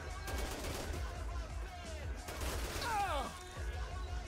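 Gunfire in the zombie game Dead Rising Deluxe Remaster, a busy stretch of repeated shots mixed with crashes and game noise, with a whooshing sweep near the end.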